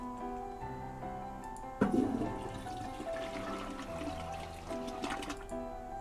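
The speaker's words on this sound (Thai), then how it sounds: "กดอะไรกดชักโครกก่อนล่ะ" A toilet flushes in the video game Five Nights at Freddy's. The flush starts suddenly with a gushing rush, then trickles and fades over several seconds, under steady tonal background music.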